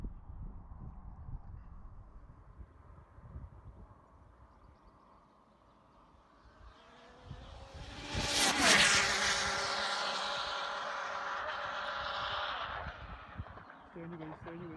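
An Arrma Limitless RC car runs a speed pass on 8S batteries in parallel. It starts faint and distant, then swells into a loud, sustained high-pitched electric motor whine as it rushes close, with voices talking over it.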